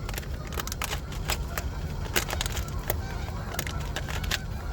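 Geese honk loudly and repeatedly at a campsite beside a parked truck, sharp calls rising over steady outdoor background noise, with scattered clicks and light handling sounds nearby.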